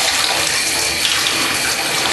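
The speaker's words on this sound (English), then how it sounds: "now I'm rinsing down the tub" Water runs hard from a tap into a bathtub as the tub is rinsed, a loud, steady rushing and splashing that fills the whole stretch without a break, and no voices.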